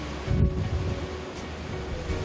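Wild Atlantic surf on the Algarve coastline, a soft wash of breaking waves with a brief louder surge near the start, mixed with faint wind noise.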